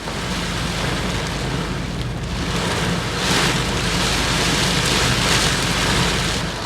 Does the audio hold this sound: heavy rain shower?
yes